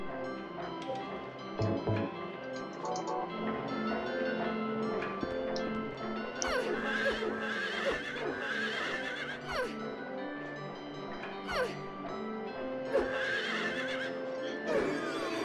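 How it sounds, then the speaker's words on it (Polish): Several horses neigh and whinny repeatedly in the Silent Hill 3 video game, loud, shrill calls recurring over a dense, layered game soundscape with faint hoof-like clip-clop underneath. "Kurde, konie z piekła rodem."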